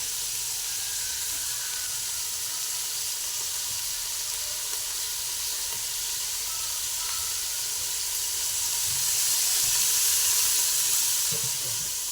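Onion and green chillies fry in ghee with a steady, close sizzle that hisses without pause, with faint clinks near the end.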